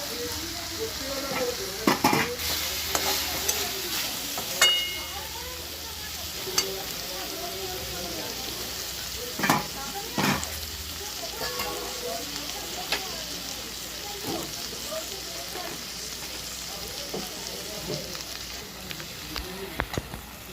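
Pieces of fried rui fish go into sizzling masala in a pan for rui kalia. A steady frying hiss runs under scattered scrapes, stirring knocks and clinks of a utensil against the pan.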